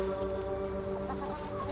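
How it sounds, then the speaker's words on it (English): A chicken clucking softly among other fowl, low and close under a steady hum of background ambience, with no talk. "Hey, chicken."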